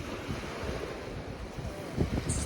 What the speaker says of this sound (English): It's a bit windy and like really cool breeze